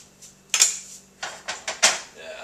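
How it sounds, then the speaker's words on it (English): Metal spatula scraping and clattering against a cast iron pan while flipping an omelet, several short close scrapes and knocks in an uneven rhythm over quiet kitchen background. "Once this has gotten rather solid, and you can pick it up with a spatula, I flip it over."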